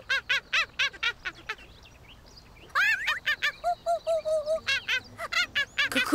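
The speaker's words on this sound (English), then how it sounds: "I'm trying to watch the birds." Cartoon birds honk like geese in a rapid string of loud, repeated calls, pausing briefly and then resuming with a steady run of honks.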